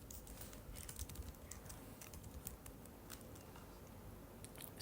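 Someone types a select statement on a computer keyboard, a quiet, steady run of close key clicks with uneven rhythm, and no voice.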